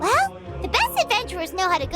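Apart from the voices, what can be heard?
No distinct noise like a dog, phone or traffic.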